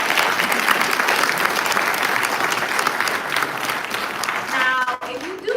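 Dense, loud crowd applause honors congressional staff at a district event, sustained and even, ending with a voice starting to speak at the close.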